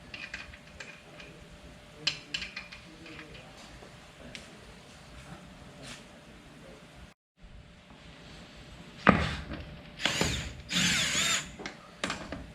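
A power tool runs lug nuts onto a GMC Sierra 1500 wheel hub in short bursts late in the take, loud and close, after a stretch of quieter clicks and handling noises.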